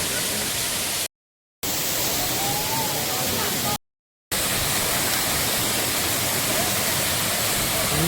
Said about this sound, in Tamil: சூப்பராக இருக்குது வாட்டர் ஃபால்ஸு.